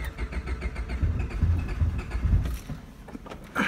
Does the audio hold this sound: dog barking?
no